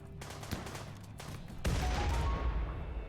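RimWorld gunfire: scattered sharp shots crack at uneven intervals, then a heavier blast at mid-clip gives way to a sustained rumbling roar, close and fairly loud, with no voices.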